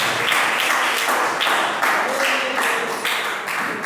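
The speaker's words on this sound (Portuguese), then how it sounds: "A igreja senta-se e bate as palmas para Jesus." Church congregation clapping hands together in praise, a dense, continuous wash of applause in a steady rhythm filling the room, loud and without talk.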